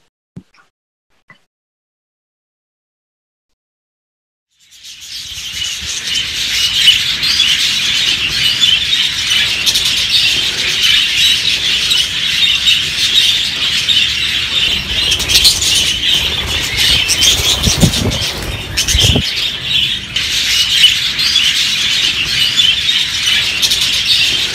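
Budgerigars kept in an aviary heated by copper piping from an oil boiler fill the space with a dense, steady wash of chattering and chirping, starting abruptly after a few seconds of near silence and continuing loudly throughout.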